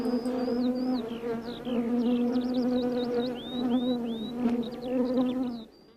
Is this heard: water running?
no